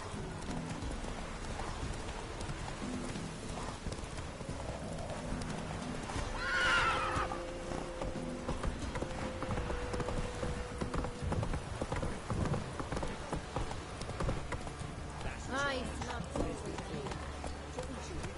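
A horse in The Witcher 3 video game gallops with rhythmic clip-clop hoofbeats and lets out a loud whinny midway, with another neigh later, under a faint rain-like bed and spoken lines.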